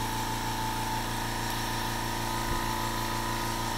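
A Makita MAC210Q quiet two-gallon air compressor runs with a constant, even motor hum and pulsing mechanical throb, steady and close throughout with no talking.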